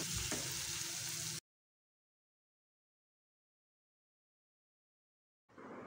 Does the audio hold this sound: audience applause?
no